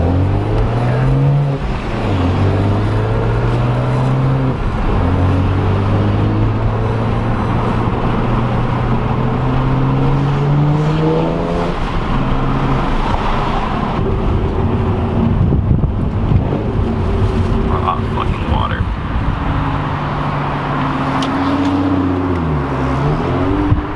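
A BMW N54 engine with a performance exhaust revving up and down through its range, loud and close, with a rough exhaust rumble and some wind noise.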